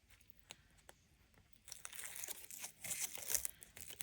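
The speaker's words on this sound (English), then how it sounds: "Okay, and then we just take the paper off that." Backing paper peels off a foam core ornament as a soft crinkling tear, quiet at first and then a louder, rustling pull over about two seconds.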